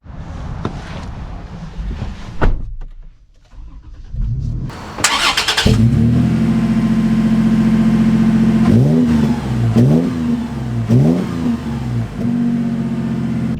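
A 2024 Toyota 4Runner TRD Pro engine starts and then revs repeatedly, a deep mid-range roar rising and falling in several distinct throttle blips before easing back to a steady idle, loud and close.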